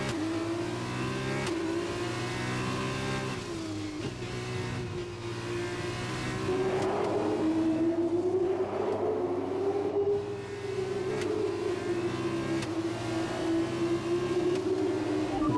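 Formula 1 car engine in the F1 2021 racing game, a continuous thin, buzzing whine that rises and drops with gear changes and throttle, steady and close throughout.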